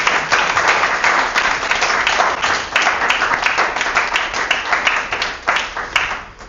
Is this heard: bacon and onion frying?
no